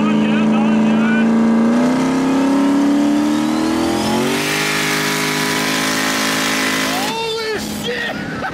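A 2000 hp boosted Coyote race car running 15 pounds of boost accelerates hard down a track straightaway, its loud engine note climbing steadily through the gears, heard from inside the car with a brief shift near the end.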